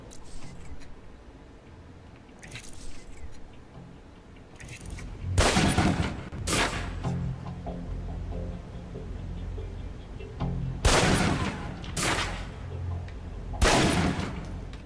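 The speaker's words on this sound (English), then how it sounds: "Equip the pistol, then aim down range and take some shots at the target." Pistol shots fired at a target range in the Alpha Protocol video game: sharp, loud cracks arriving singly and in quick pairs over a low ambient hum, with quieter pops between them.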